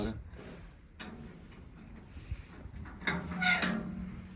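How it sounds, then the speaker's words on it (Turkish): A cat meows a few times, with a louder, drawn-out meow near the end, while people talk nearby. "bunlar kediler mənimdir, bunlar kediler"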